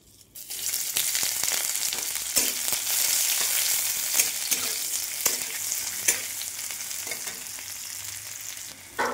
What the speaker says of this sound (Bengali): এগুলো ভাজা হয়ে গেলে এর মধ্যে দিয়ে দেবো একটু পেঁয়াজ কুচি